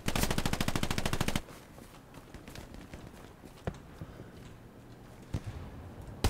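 A fast, loud burst of machine gun fire in the World War II video game Hell Let Loose lasts about a second, followed by quieter scattered distant shots and faint battlefield ambience.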